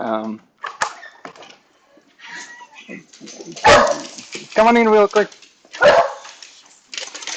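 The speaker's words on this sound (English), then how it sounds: "Sorry about the dogs barking." Several pet dogs bark and yip indoors in bursts during a home visit, loud and close, with people talking between and over the barks.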